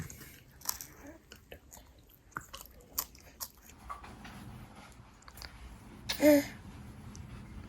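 A toddler munching on a rice cake at breakfast, with soft, close, scattered crunching and mouth sounds, a faint voice, and one louder vocal burst near the end.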